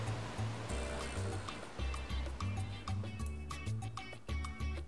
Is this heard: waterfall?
yes